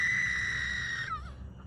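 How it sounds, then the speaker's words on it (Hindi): A loud, sustained high-pitched scream rings out as a horror story effect on a road, holding steady before wavering and breaking off into a fading echo. "फिर सड़क पर एक जोरदार चीख गूंजी"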